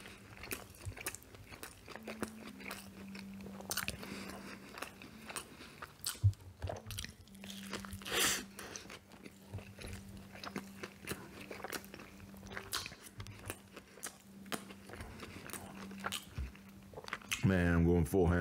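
Someone chews McDonald's burgers, nuggets and fries up close, a continuous run of wet crunching and biting sounds with a low hum beneath, and brief voice sounds near the end.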